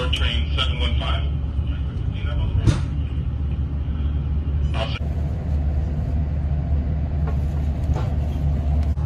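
A passenger train rolls along with a steady, loud low rumble and clatter heard from inside the car, with a few brief higher rattles and some background voices.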